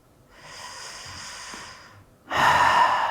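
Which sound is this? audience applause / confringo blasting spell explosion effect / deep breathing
deep breathing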